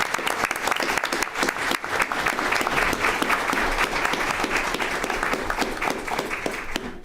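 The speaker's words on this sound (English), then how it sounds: "Let's give them a round of applause." Sustained, thick applause from the audience at a school district board meeting, even and full throughout with a few sharp individual claps near the microphone.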